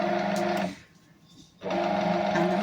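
A bread maker machine with a central paddle kneading dough, giving a steady mechanical whirring hum with a rhythmic churn that stops briefly midway and then resumes, close and moderately loud.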